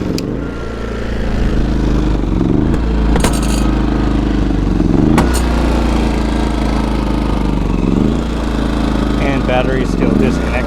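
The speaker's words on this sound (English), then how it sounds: "this one will run on gas without the batteries" A small gas generator runs with its battery disconnected and little fuel in the tank. Its engine holds a loud, steady droning hum close by, with slight rhythmic wavering and occasional faint clicks throughout.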